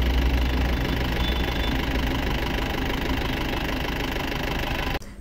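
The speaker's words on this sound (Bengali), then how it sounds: "ইঞ্জিনের সাউন্ড শুনুন" A 2020 Mahindra Big Bolero pickup idles close by with a steady, throbbing diesel rumble and a faint knocking rhythm, running evenly until the sound cuts off abruptly near the end.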